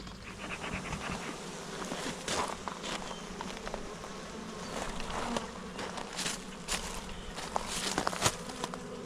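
Honeybees hum and buzz steadily around an open beehive being inspected, a dense close swarm drone with occasional louder passes near the listener and faint handling rustles.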